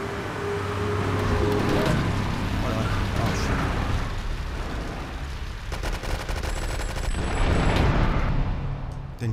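Rapid bursts of automatic gunfire in GTA 3, loud and dense throughout, with explosions mixed in and a voice talking over the shooting.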